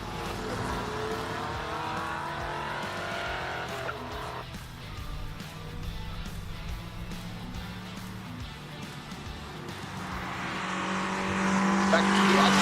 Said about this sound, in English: We've got cars on track now, so let me stop talking and let the cars do the talking.